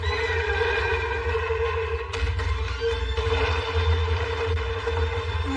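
A horse neighs in a dubbed animated series, a strained whinny over a dense, rumbling background of action sounds, with a sharp crack partway through and no talking.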